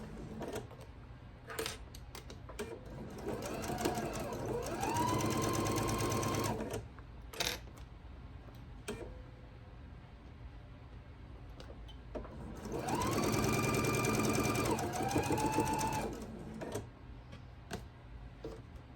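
A sewing machine stitches a quilt block in two long bursts of rapid, rising mechanical whirring, separated by quiet pauses filled with scattered clicks and taps, close and clear.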